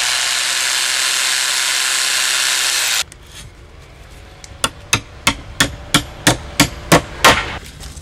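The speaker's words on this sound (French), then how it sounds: "je vais faire mon trou avant de mettre ma cheville à frapper" An electric drill bores a hole for a hammer-in wall anchor while wood cladding is being fitted: about three seconds of steady, loud drilling, then a short pause and a run of eight or nine sharp hammer blows in an even rhythm.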